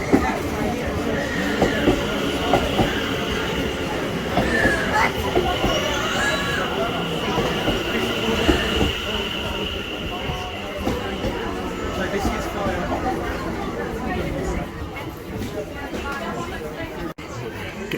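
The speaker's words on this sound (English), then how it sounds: "I think that's my train coming up this time, in fact it is." A train pulls into a station in the London area, its rumble and rolling clatter carrying under the station's crowd noise and someone talking nearby.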